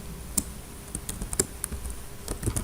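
Computer keyboard typing while entering React component code, a handful of sharp key clicks scattered irregularly over a soft background hum, close and moderately loud.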